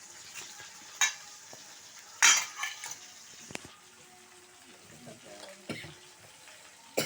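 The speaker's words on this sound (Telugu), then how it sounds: "పచ్చిమిరకాయలు నూనె వేసి వేయించుతున్నా" Green chillies frying in oil for chutney, a soft low sizzle punctuated by sharp clinks and scrapes of a stirring spoon against the pan, fairly quiet and close.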